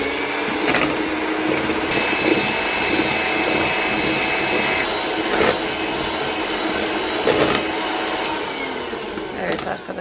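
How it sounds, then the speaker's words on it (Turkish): Electric hand mixer whisking eggs and sugar for fluffy pancakes, a steady continuous whir running for the whole stretch, fairly loud and close, with small bumps as the beaters knock the bowl. "Bir buçuk çorba kaşığı da şekerimizi ekleyip sonra bunu mikserimizle karıştırıyoruz."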